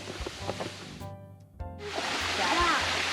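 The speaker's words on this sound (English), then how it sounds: "I hear some water." Water rushes steadily over a waterfall at Ricketts Glen State Park, growing to a loud, continuous roar as people talk near the brink.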